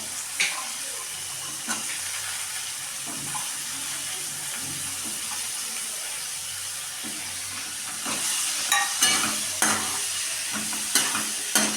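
Ivy gourd is stirred in a hot pan with chilli, salt and turmeric, giving a continuous close sizzle. Scraping stirs and clacks grow more frequent toward the end.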